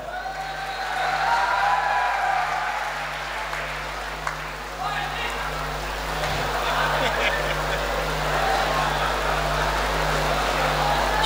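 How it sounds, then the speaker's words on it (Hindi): Sustained applause from the audience at a kavi sammelan poetry gathering in Mahoba, a dense steady clatter of clapping with a low hum and crowd murmur underneath. "ताली भी बजा दो भाई साहब।"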